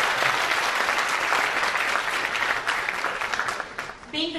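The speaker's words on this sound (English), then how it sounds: "please give them a big round of applause for their beautiful and energetic performance" An audience of students applauds a dance performance with a loud, sustained burst of clapping that tapers slightly, and a voice begins speaking just as it fades at the end.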